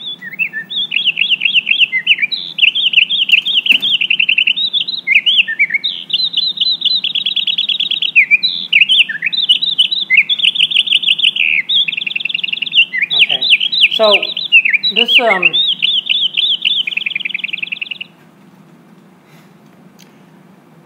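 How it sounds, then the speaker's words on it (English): Song of a tiny bird slowed to half speed: loud, rapid runs of warbling, trilling phrases repeated for about eighteen seconds against a low hum, with a brief voice near the end. "a little tiny bird about this size"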